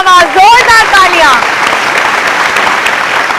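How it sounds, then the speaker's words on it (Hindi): Loud applause breaks out after an exuberant voice cheers over the opening second, then a dense, steady wash of clapping carries on alone. "वाह वाह वाह वाह, जोरदार तालियां।"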